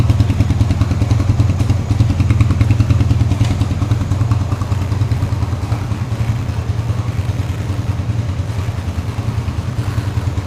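A Suzuki Satria FU fuel-injected motorcycle engine runs close by, a loud, steady, rapid low-pitched putter with a faint clattery edge that holds unchanged throughout.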